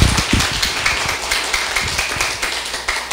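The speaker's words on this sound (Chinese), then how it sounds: "有来拍手啊！" Crowd applause at a political lecture in Taiwan, sustained dense clapping from an audience lasting the full few seconds with no speech over it.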